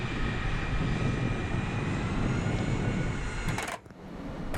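A C-5M Super Galaxy military transport drones loudly on landing approach into Bagram, a steady, close, broadband engine roar that holds throughout before briefly cutting out near the end.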